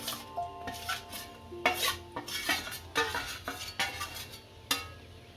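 Jaggery, 250 grams, going into a pan of hot ghee for peanut chikki, heard as a run of close metal spoon scrapes and clinks against the pan over a soft, low sizzle.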